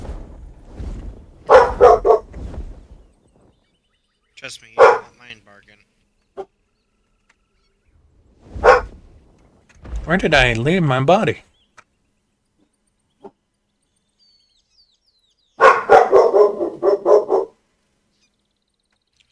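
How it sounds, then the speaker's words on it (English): A dog indoors barks in several separate bursts with yips and whimpers, loud and close, between stretches of quiet, while someone talks at times. "And there goes my dog barking again."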